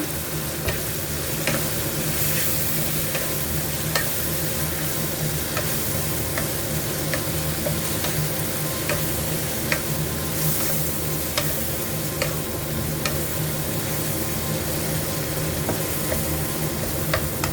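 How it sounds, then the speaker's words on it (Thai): Minced pork chili paste is stir-fried in a pan, a steady close sizzle running throughout with regular light scrapes and taps of the spatula. "ผัดเลยนะคะ"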